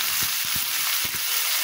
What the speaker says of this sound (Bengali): আলুটা এবার একটু ভাজা ভাজা হবে।